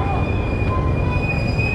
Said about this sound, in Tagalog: yung LRT galing yan Baclaran doon sa terminal